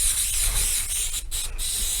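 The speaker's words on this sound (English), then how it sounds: "I have the can out, so I'm still going to spray this on to at least get it to start" Steady close hiss of Killz primer sprayed from an aerosol can onto drywall repair near a ceiling fan, running continuously with two brief dips.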